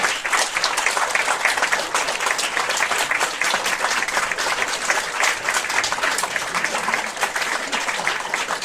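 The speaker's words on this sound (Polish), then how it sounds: "Duży ukłon dzieciaki, duży ukłon. Jeszcze raz, bo wam się należy." A concert audience applauds children after a Christmas dance performance: sustained, dense clapping from a large crowd filling the hall at an even, loud level throughout, with faint voices mixed in underneath.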